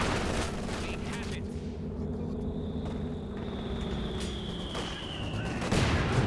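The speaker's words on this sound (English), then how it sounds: "I'm surprised the mortar pit can range that far. Must be on barrage." A mortar pit firing a barrage in Company of Heroes 2 sends out repeated booming shots over a dense battlefield din, with a long descending whistle of an incoming shell and more blasts near the end.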